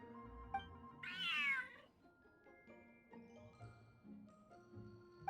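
A cat in Genshin Impact gives one clear, rising-and-falling meow near the start, faint against soft game music and chimes that continue afterward.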